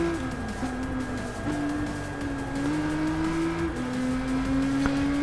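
Subaru STI race car in the N300 class in Gran Turismo Sport, its engine holding a steady, loud drone that rises and dips with gear changes, with faint tire noise underneath and no talking.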